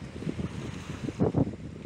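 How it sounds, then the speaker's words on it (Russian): Wind buffeting the microphone over the low rolling wash of strong Aegean Sea waves, a couple of stronger surges near the end. "вот так море шумит, волны начались сильные"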